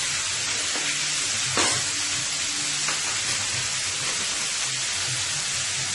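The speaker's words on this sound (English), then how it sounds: "So the steak is cooking on one end. And all that shrimp flavor is going to go into my string beans here and cook up nicely." A ribeye steak and string beans cooked with shrimp flavor sizzle loudly and steadily in a large pan, a dense continuous hiss with a few faint clicks, close by and without talking.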